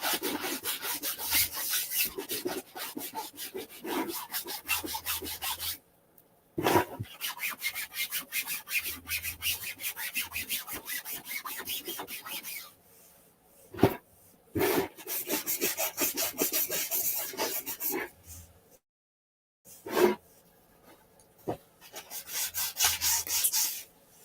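Wood being sanded by hand with sandpaper, with rapid rhythmic rasping strokes in long close-up bursts broken by short silent pauses, loud and alone.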